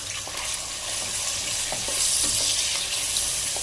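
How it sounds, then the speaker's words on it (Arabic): Chicken liver and gizzards sauté in butter and oil in a pan for rice stuffing, a continuous close sizzle with light stirring clicks and scrapes, no voices. "هنستنى شويه لما يسخنوا شويه، وبعد كده هننزل بالكبد والقوانص"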